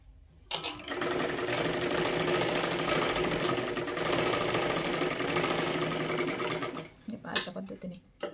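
A sewing machine runs a long continuous seam on a princess blouse, a loud, close, steady mechanical whirr for about six seconds before stopping, with a few short bursts afterward.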